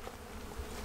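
Bees buzz around a campsite near Olympia, a continuous low droning hum with no talk, fairly faint and steady through the short moment.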